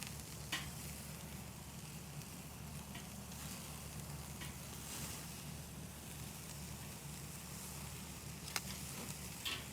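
Bacon wrapped filet mignon sizzles on a grill in a steady, fairly quiet hiss, with a few faint clicks and scrapes from turning the meat.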